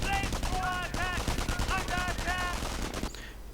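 Loud, rapid .30 caliber machine gun bursts in a WWII real-time strategy game match, repeated clattering fire over battle noise and game sound effects, ending abruptly.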